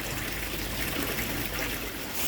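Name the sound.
water pouring out of a pond filter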